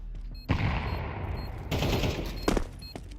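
Rapid automatic rifle fire in the video game Counter-Strike, two loud close bursts of rattling shots with a sharp crack between them, during a match where a headshot lands.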